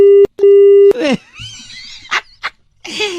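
A steady electronic phone tone sounds in short bursts, then cuts off, followed by brief rustles and a couple of sharp noises.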